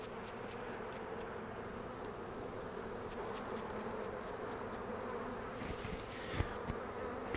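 A steady swarm of honeybees hums continuously at close range as they are shaken off a hive frame into a box, with a few soft thumps and knocks near the end.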